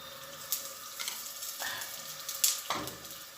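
Radish (mooli) paratha frying in a small amount of oil in a pan over a low flame, a soft, steady sizzle with a few light clinks and scrapes, no talking.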